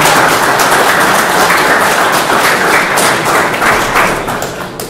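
Sustained applause from an audience after a lecture in Poland, dense continuous clapping that holds steady and then fades slightly toward the end, with no talking over it.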